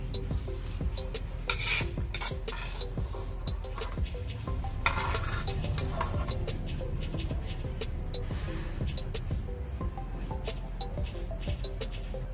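Potatoes fry in a pan and are stirred steadily, giving a continuous close sizzle with frequent spatula scrapes and small metallic clinks throughout.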